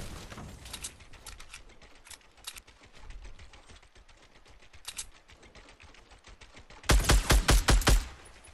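Gunfire in a shooter video game: scattered single shots through most of the stretch, then a loud rapid burst of about six close shots near the end.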